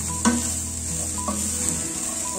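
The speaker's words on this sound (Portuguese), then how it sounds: "Dá uma fritadinha com essa cebola" Onion sautéing in a pan gives a steady close sizzle, broken by a couple of sharp scraping stirs of a utensil against the pan, with no talking.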